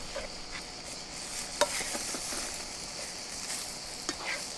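Beef strips and rucola (rocket) sizzle and hiss steadily in a hot pan with olive oil as they are turned, with occasional soft clicks and scrapes from the utensil against the pan.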